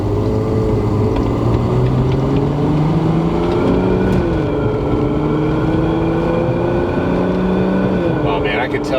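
Turbocharged Lexus IS300 fitted with a CX Racing turbo kit accelerating under light boost, a loud, steady engine drone with harmonics climbing smoothly through the gears, heard from inside the car.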